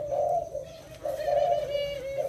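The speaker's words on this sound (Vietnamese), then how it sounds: "cặp này chim lớn gáy gòi ha nè" A Thai spotted dove coos nearby in two soft, resonant phrases separated by a short pause, alone without voices.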